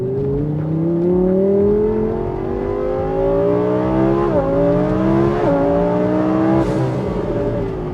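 An Audi R8 V10 engine, revving up to 8,700 RPM, winds through rising gears in a loud, close, continuous howl, with brief dips at each shift before climbing again.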